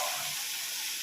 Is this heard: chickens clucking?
no